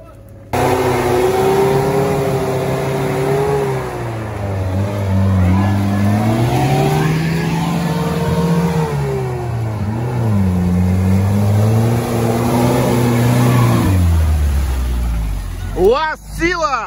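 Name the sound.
turbo UAZ off-road vehicle revving on difficult route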